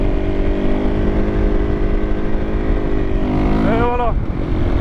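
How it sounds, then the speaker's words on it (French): A KTM 525 EXC motorcycle roars loudly and steadily at close range during a wheelie, with the engine note climbing sharply near the end as it revs hard. "Donc là on va faire un dernier wheeling pour la route."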